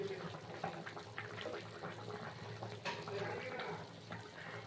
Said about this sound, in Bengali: তো দেখো আমাদের ঝোলটা ফুটে গেছে।